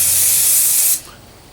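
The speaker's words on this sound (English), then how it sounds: "I'm going to be using a Kryolan Fixer Spray." A Kryolan fixer spray mists onto a made-up face in one loud, close, steady hiss lasting about a second before cutting off to quiet room noise.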